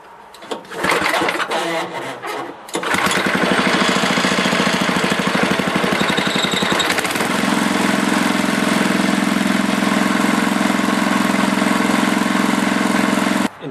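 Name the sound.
Tecumseh snowblower engine restarting and idling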